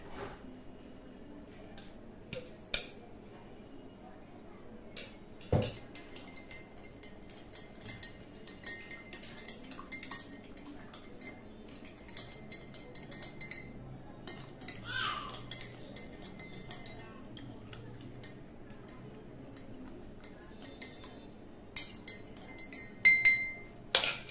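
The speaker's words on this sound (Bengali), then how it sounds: "এবার হচ্ছে চা ছেঁকে কাপে ঢেলে নিচ্ছি" Tea being strained and poured into cups in a home kitchen, heard as scattered light glass clinks and cutlery taps over a quiet background, with a few sharper clinks near the end and no talk.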